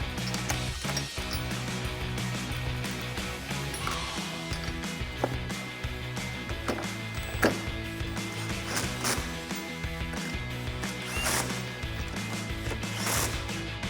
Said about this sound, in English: Grab a 15mm socket, and you can grab your impact or ratchet and tighten those down